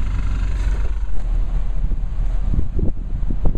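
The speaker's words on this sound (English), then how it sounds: "it's like crazy windy today" Strong beach wind buffets the microphone in a loud, steady low rumble with gusty surges, continuous and close throughout, with no voices.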